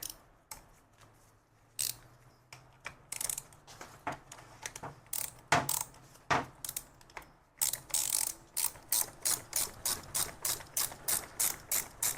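Ratchet wrench tightening a spring compressor on the front strut of a 2011 BMW E70 X5 M Sport, heard close up as a steady series of sharp clicking strokes that quicken into a regular rhythm, with no talk.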